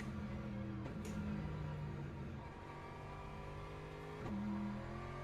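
Racing car engine in the iRacing simulator at Monza, a steady droning roar with shifting harmonic pitch, a brief gear-change dip and rise, heard alone at moderate level.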